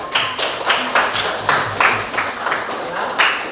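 Classroom of students clapping hands in rhythm, a brisk series of about a dozen sharp, evenly spaced claps, fairly close and loud, with no talking over them.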